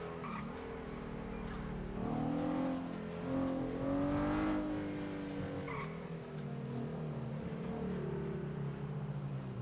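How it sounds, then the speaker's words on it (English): A car drifts along a street in a video game, a sustained squeal of tires over a revving engine that holds steady for several seconds, with no talk. "This person just drifted the shit out of that street."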